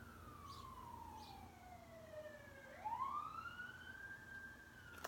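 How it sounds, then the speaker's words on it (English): A wailing siren sweeps down and rises again, with a second siren tone joining midway, steady and moderately distant over faint traffic rumble. "sirens everywhere."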